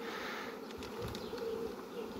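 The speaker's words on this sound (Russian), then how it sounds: "Просто смотрим по пчелам. Радуемся этим пчелам." Honeybees hum steadily at an apiary where a caught swarm is being rehoused. A dense, continuous buzz of many insects fills the whole stretch with no talking.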